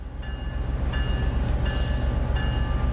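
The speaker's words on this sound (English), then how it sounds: "Honk at the guy that's beyond the yellow line." Metrolink MP36PH locomotive horn in Train Sim World 5 sounding in several steady blasts over the constant low rumble of the diesel engine, with a brief pause between the first sustained notes.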